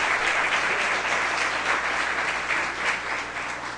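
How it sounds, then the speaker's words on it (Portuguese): An audience applauds a speaker at a conference talk, a dense continuous roar of many hands clapping, close and loud, holding steady with slight swells across the whole stretch. "E uma salva de palmas para a palestrante"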